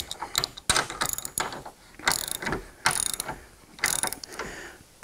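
Ratchet wrench clicking in several quick bursts while tightening the mounting bolts of a bench vise into a wooden tabletop, close and fairly loud, with pauses between strokes.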